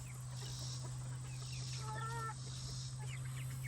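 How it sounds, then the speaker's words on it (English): A rooster among a flock of chickens lets out a brief, nasal call near the middle, over a steady low hum and faint clucking. "Here's a rooster that I thought I had."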